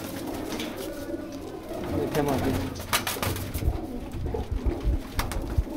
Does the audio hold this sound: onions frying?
no